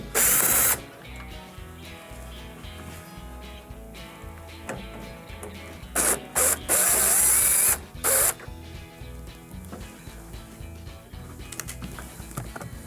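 Screwdriver backing out number 2 Phillips screws from a Whirlpool microwave grill, with a faint steady mechanical ratcheting bed broken by a few sharp, loud clacks and bursts of handling noise.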